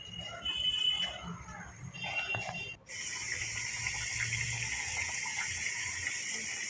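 A piece of KFC-style chicken drops into hot oil, and a steady, loud sizzling hiss starts abruptly partway through after quieter kitchen sounds.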